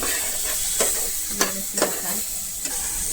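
A spoon stirs turmeric and red masala through a sizzling pan while cooking egg ghotala, with a few distinct scraping strokes over a steady, close fry and no talking.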